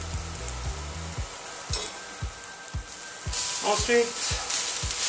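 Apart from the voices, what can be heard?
shallots sizzling in a frying pan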